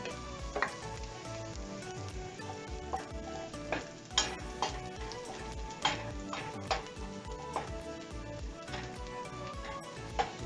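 Garlic frying in a pot until brown for chicken noodle soup, with a continuous close sizzle broken by frequent clinks and scrapes of stirring at an uneven pace, no voices.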